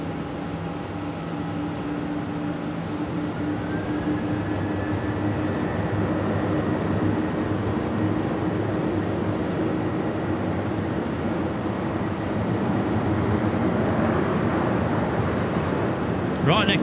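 A Velocity airliner powers up for takeoff on runway 34 at Melbourne, a broad steady engine roar building in the distance over about seventeen seconds, with talk heard over it.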